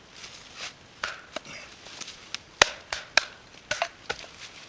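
A Bark River Bravo 1 knife chops into green wood in a series of sharp, crisp strikes, about ten irregularly spaced hits, close and distinct with quiet gaps between.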